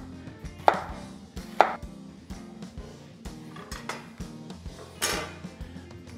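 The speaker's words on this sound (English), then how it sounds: "I have a couple of jalapenos here. Just gonna cut some quick rings." A knife chops jalapenos into rings on a cutting board, a close series of irregular sharp knocks with a few louder strikes, heard alone without talk.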